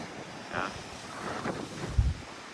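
Strong ocean waves crash among coral and lava rock at Natural Bridge, Aruba. A low, continuous wash of surf rises and falls under gusty wind, with one dull thump of breaking water near the end.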